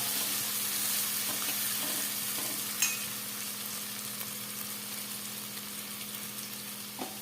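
Ground roasted masala paste poured into a hot pan for a Kerala-style chicken curry, with a steady close sizzle and frying hiss, a few soft stirring clinks and a brief splash near the middle, no talking.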